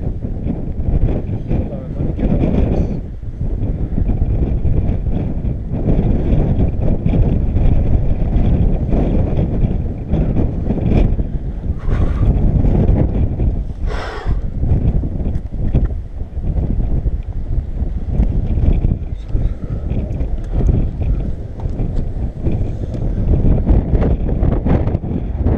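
Strong wind roars and buffets the microphone continuously on an exposed rock climbing ridge, the Knife Edge of the Shield on Sandia Peak, New Mexico, loud and close with brief gusting surges throughout.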